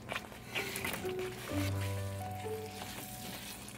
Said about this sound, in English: Now add the fried cubes of the paneer too into this gravy.